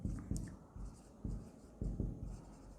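Chalk or marker scratches across a classroom board during an accounting lesson, a few short rubbing strokes in quick bursts, close and fairly quiet.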